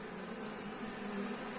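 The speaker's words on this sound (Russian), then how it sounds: "Вот пчелка прилетела, пузик пустой, ничего нету" Honeybees fly in to an apiary hive as sunflowers begin to bloom, a steady, close buzzing hum that continues without a break through a short moment.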